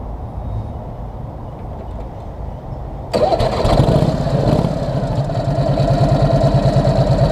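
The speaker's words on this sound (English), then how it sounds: "I'm gonna fire this up." A Harley-Davidson 45 flathead Police Servi-Car engine starting: a quiet low rumble, then about three seconds in it catches abruptly and settles into a loud, steady, close idle with a rapid pulsing throb.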